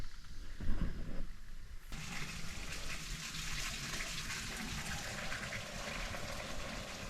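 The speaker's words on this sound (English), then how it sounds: "got a water hose, we're going to squirt it up there" A garden water hose sprays onto the roof of a carport on a 45-year-old house, a steady broadband hiss and patter that starts as a brief splash, then settles into a continuous even rush for several seconds.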